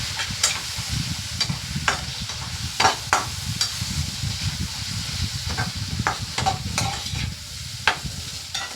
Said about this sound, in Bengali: এগুলোকে ভালো করে একটু কষিয়ে নিতে হবে